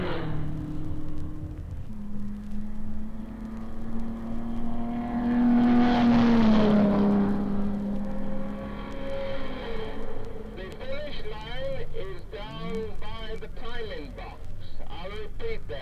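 Race cars, including Porsches, run at the Sebring endurance race after sunset, their engines droning and sweeping past steadily under an announcer's voice over a loudspeaker.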